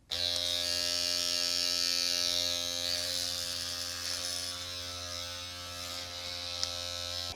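An electric microneedling pen buzzes steadily and loudly up close, a constant high whine with a low hum underneath and no voices.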